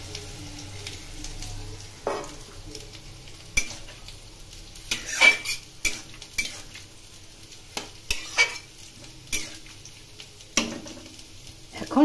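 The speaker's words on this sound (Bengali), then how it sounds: "কষানো হয়ে গেছে, এখন জল দিয়ে দিলাম।" Water goes into a pan of pui curry with a fish head, giving a low simmer broken by scattered stirring clinks and scrapes against the pan at uneven intervals, close by, with no talking.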